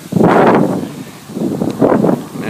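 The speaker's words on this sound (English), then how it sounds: "As the wind kicks up, it picks up quite easily." Wind gusts around a Savonius vertical-axis wind turbine, two loud buffeting rushes close to the microphone with a brief lull between them.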